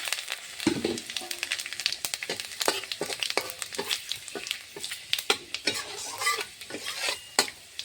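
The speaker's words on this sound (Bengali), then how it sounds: "তেলটা গরম হয়ে গেছে। ফোড়নে দেবো তেজপাতা, শুকনো লঙ্কা, পাঁচফোড়ন।" Bay leaf, dried red chillies and five-spice seeds crackle and sizzle in hot mustard oil, with a spoon stirring and scraping the pan in quick, uneven bursts throughout.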